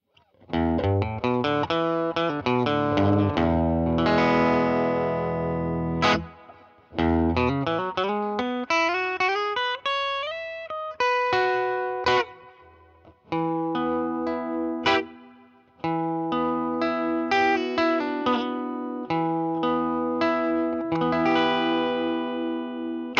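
An electric guitar plays through a Purdy Tube Amps reverb pedal into a tweed amplifier, with clear chords and single-note runs trailing into lush reverb tails, loud and alone with brief pauses between phrases.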